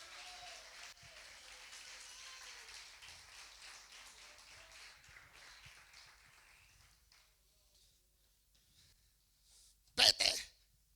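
A church congregation claps in praise, a busy patter of hands that gradually thins and fades to near silence, followed by a short, sharp burst of noise right at the end.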